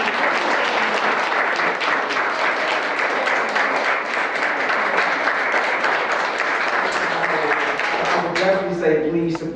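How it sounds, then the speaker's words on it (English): An audience gives Ytasha Womack loud, sustained applause, thick continuous clapping through most of the stretch, with a voice starting to speak as it winds down near the end. "can we give her another round of applause?"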